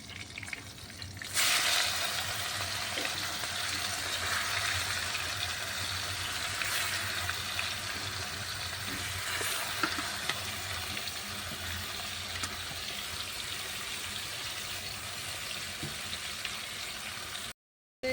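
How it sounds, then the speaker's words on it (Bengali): Marinated chicken drops into hot oil with bay leaves and green chillies, setting off an abrupt, loud hiss that settles into a steady, continuous sizzle for the rest of the clip. "এবার আমি ম্যারিনেট করা মাংসগুলো দিয়ে দেবো"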